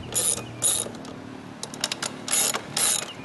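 Ratchet loosening the muffler bolts on a Chinese scooter, close repeated clicking strokes in uneven bursts over a low mechanical rumble.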